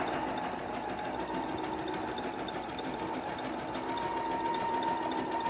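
A sewing machine runs steadily, stitching a dense, tightly packed zigzag stitch along the border of a towel, a continuous close mechanical whir at even volume with no talking.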